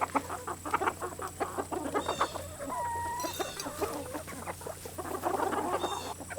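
A homestead flock of chickens clucks and chatters steadily at close range, with a rooster among them, busy overlapping calls filling the scene while a voice speaks a single word.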